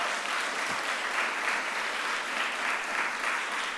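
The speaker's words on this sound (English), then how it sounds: "Give him another round of applause." Steady applause from an audience at a mayor's press conference during a career week event, a dense, even wash of clapping that holds at a constant level throughout.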